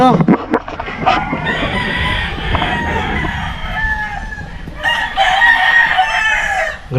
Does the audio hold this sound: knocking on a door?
no